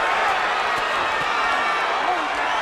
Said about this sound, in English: You hear the crowd trying to cheer on both Woonsocket fighters